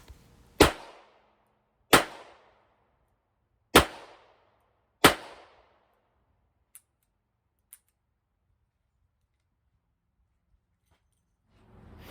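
Four sharp, loud gunshots from a Ruger SP101 .357 Magnum stainless steel revolver with a 3-inch barrel, spaced about a second apart, each with a short echo, followed by two faint metallic clicks and then quiet.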